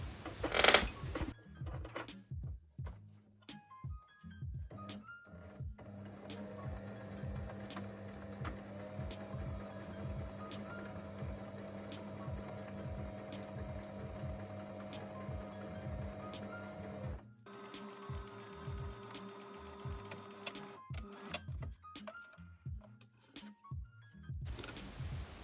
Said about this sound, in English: we can go over to our sewing machine and stitch those sides